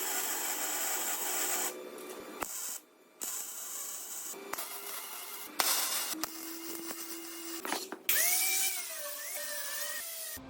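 An angle grinder works on steel parts for a truck flatbed build, a high whining grind in bursts with pauses and pitch shifts as it bites and spins down, close and loud.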